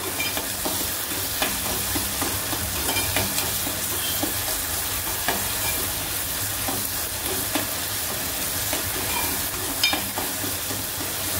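Bombil fish sizzles with onion and tomato in a pan, a steady loud frying hiss running throughout, with occasional stirring scrapes and clicks and no voices.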